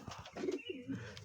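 Pigeons in a fancy pigeon loft coo in short, close, soft throaty bursts at midday, with a few quick murmuring calls overlapping.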